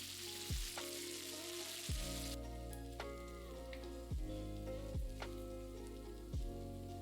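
Curry leaves, five dried red chillies and about twenty small shallots sauté in hot oil for a Kerala raw plantain stir-fry, a steady loud sizzle punctuated by several sharp clinks and stirring knocks, with no talking.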